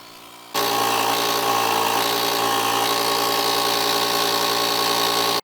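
A UTRAI JSTAR5 portable jump starter's built-in air compressor motor inflating a car tire switches on abruptly after a faint hum and runs with a loud, steady, buzzing drone until it stops.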